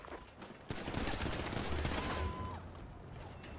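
A sustained burst of rapid gunfire from GTA V roleplay, dense and continuous for a few seconds before easing off.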